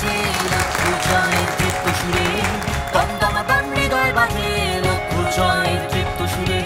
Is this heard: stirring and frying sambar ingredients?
no